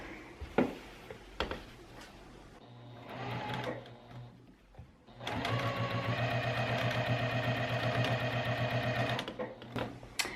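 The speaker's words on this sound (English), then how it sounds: "And again, sew from corner to corner." A sewing machine stitches jelly roll fabric strips for a rug, first in short close bursts and then in a long steady rhythmic run of needle clatter, with no voices.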